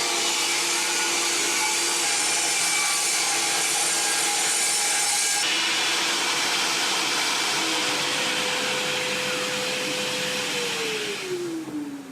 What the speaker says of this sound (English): This is a different kind of saw. It's called a miter saw. It's ideal for doing these kind of cross cuts.